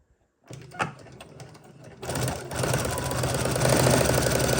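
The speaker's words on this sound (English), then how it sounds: "I'm just going to sew a straight line from the corner to corner." A sewing machine starts up and runs steadily with a dense mechanical whir, loud and close, after a few brief handling clicks, stitching a straight corner-to-corner seam on quilting fabric.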